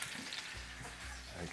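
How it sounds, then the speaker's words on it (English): Steady crackling sizzle of a pig's head roasting, loud and continuous with a faint watery hiss throughout, no voices. "sizzling, weeping, sticky juices."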